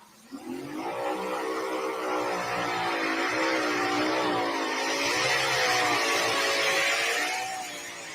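A tractor-pulling competitor's engine roars at full throttle on the track at a pull in Fisher, Illinois, a loud, sustained, wavering mechanical drone that builds quickly and holds for several seconds.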